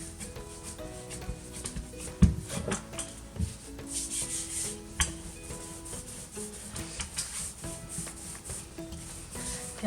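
Peanut butter dog cookie dough is rolled out with a rolling pin, giving soft rubbing and rolling sounds with light knocks and scrapes, steady and close, with no voices.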